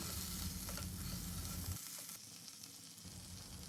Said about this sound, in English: We'll mix the spices well along with the potatoes and raw bananas, and we'll saute them for a few seconds on low to medium flame.